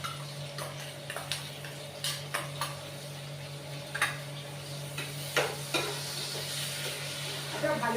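Grated onion with ginger garlic paste sautéing in a pan, a steady quiet sizzle broken by repeated light scrapes and taps of a spoon stirring against the metal.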